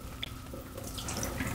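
Mulberries being rinsed under a running kitchen tap, with a steady stream of water splashing into the sink and against the fruit for a couple of seconds at close range.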